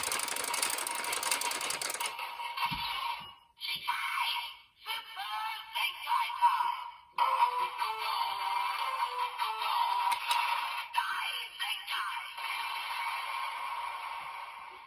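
The toy DX Geartlinger from Kikai Sentai Zenkaiger is cranked for its finisher: a brief mechanical burst gives way to loud electronic effects and music-like tones playing continuously and close.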